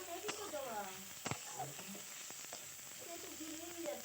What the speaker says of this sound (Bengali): এবার আমি কড়াইতে তেল দিয়ে তেজপাতা আর পেঁয়াজগুলো ভালোভাবে লাল করে ভেজে নিচ্ছি।